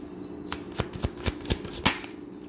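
Tarot cards are shuffled and one is drawn, heard up close as a series of sharp, crisp card snaps in an uneven rhythm, about seven distinct flicks with no talking.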